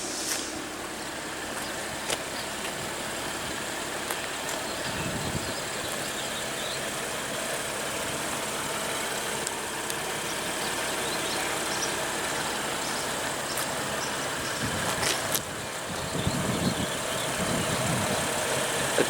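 A 2016 BMW 640i Gran Coupe with a 3.0-litre turbocharged six-cylinder engine idles with a steady, smooth hum, heard from nearby with the hood open, joined by faint occasional clicks and handling noises.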